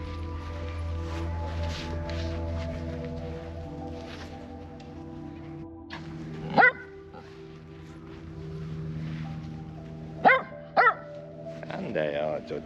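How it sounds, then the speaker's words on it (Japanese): A Kaninchen dachshund outdoors on a muddy path gives a few sharp, loud barks, two quick ones in a row and a yip later, over a steady low drone and a voice talking. "そうやってワンワン言う子はおやつはあれもらえませんよ"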